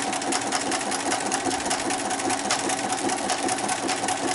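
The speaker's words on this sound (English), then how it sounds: "I'm just going to do a quick little regular open zigzag on this." A sewing machine stitches an open zigzag on a fabric wine bag, a steady rapid mechanical chatter running evenly throughout at close range, with no talking.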